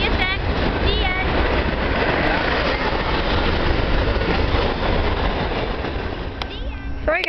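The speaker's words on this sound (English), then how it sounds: "the train's a little bit slow, but here it comes" A CSX freight train hauled by a General Electric locomotive rolls past, a loud continuous rumble with rhythmic wheel clatter and brief squeals, with people talking over it.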